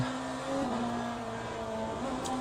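A BMW M Hybrid V8 LMDh prototype race car in Le Mans Ultimate drones steadily at sustained speed, its engine note holding a continuous tone with slight pitch shifts from gear or throttle changes, loud and unbroken throughout.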